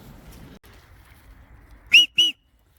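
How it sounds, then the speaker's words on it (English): Two short, sharp dog whistle pips in quick succession, high-pitched and piercing, after a stretch of quiet outdoor ambience. "There we go, 2 pips on the whistle, and she'll come back."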